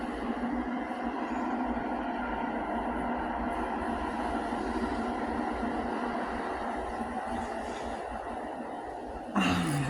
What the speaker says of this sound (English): So another train. Let's let that go by.